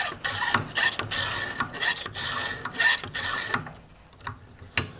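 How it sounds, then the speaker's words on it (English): A file rasps across the teeth of a brand new chainsaw chain held in a Stihl FG2 bench-mounted file guide on a vise, about seven light, even strokes in a steady rhythm, close and alone. "So I'm just using light file strokes just due to the way this is controlled."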